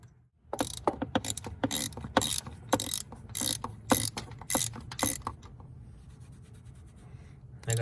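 A ratchet with a 19mm socket tightens the PCV valve on a 2004 Subaru Forester 2.5X, giving rapid, loud, close clicking bursts in an even rhythm before it stops and leaves quiet workshop room tone.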